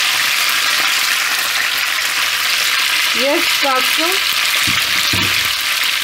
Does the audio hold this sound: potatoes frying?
yes